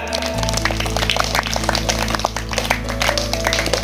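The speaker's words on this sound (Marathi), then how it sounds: "एकदा सगळ्यांनी टाळ्या वाजवा जोरात" Children in a school playground game clapping together in a dense, loud burst of claps that runs steadily throughout, with a low hum underneath.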